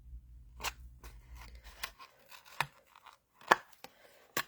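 Scissors make several distinct, crisp crunching cuts through a cardboard box, spaced out with short pauses between snips, close and fairly clear, while a low hum fades out early on.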